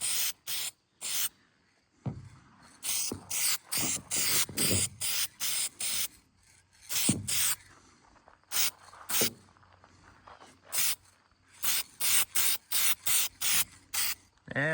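Aerosol spray paint being applied to a 1970 Ford Thunderbird, a series of close, loud hissing bursts of varying length separated by short silences, with faint rustling between.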